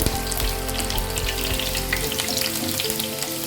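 Onions sautéing in a pan for a mushroom masala gravy, a continuous crackling sizzle with a low steady hum underneath that drops away partway through, close and without speech.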